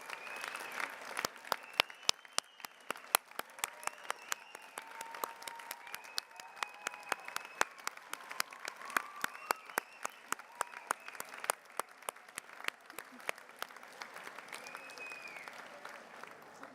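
Graduates at a Cardiff degree ceremony applauding their families, with sustained sharp claps from a large hall and faint cheers mixed in.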